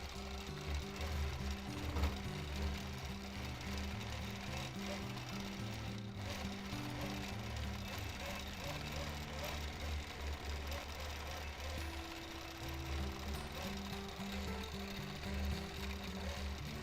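A sewing machine stitches free-motion quilting in small stippling along a quilt edge, its motor whirring and needle chattering in steady, rapid bursts that pause and restart, fairly close and continuous throughout.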